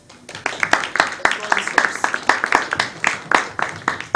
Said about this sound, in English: Please give her a round of applause, Ruth.